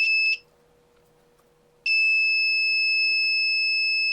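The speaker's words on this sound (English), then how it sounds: "Now I'm adding buzzer." A small electronic buzzer wired to an ESP32 board from a SunFounder IoT learning kit gives two quick high-pitched beeps, falls silent briefly, then sounds a steady, piercing continuous tone to the end.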